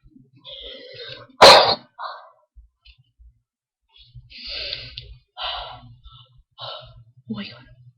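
A single sharp, loud sneeze bursts out early on, surrounded by quieter talking and breathing from the same person.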